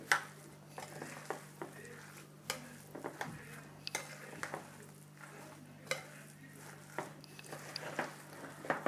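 Potato and tuna gratin ingredients mixed by hand in a bowl, soft squishing and stirring with scattered light clinks against the dish, quiet and close with a steady low hum beneath.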